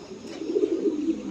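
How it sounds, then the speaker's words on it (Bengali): Fancy pigeons at a large pigeon farm coo nearby in a low, throaty warble that swells and rolls over about a second, with no talk. "বাইরে এখানে অসংখ্য কবুতর রয়েছে।"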